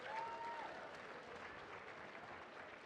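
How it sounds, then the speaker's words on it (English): Audience at a community awards evening in a hotel giving a performer a round of applause, soft distant clapping from a crowd, faint and continuous throughout the short stretch. "Give him another round of applause"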